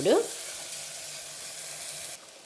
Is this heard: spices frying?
yes